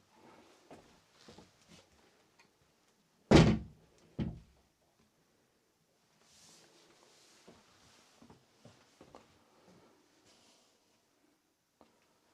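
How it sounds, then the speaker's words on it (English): A door shutting inside a museum, heard as one loud solid thunk followed a second later by a smaller knock, with quiet shuffling and faint movement before and after. "I've just shut the door."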